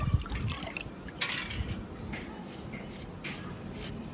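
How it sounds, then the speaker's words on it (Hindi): Water, milk and sugar pour into a vessel, a steady liquid splashing and trickling with a few brief louder spurts, close by over low background rumble and shuffling. "ये हर चीज़ जा रही है, पानी, दूध और चीनी"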